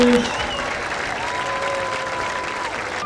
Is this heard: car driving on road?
no